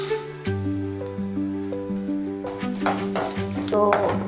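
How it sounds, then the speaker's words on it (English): Ginger chutney ingredients with chili powder frying in a pan until roasted and aromatic: a continuous close sizzle with stirring and scraping against the pan, accompanied by steady tonal music. "So I'll put all the ingredients for frying."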